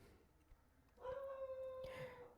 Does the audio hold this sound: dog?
yes